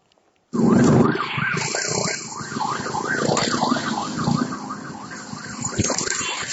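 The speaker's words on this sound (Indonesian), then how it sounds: "Sirine ambulans yang membawa pasien COVID-19" A wailing ambulance siren carrying a COVID-19 patient rises and falls repeatedly in a steady cycle, loud and fairly close, continuing throughout.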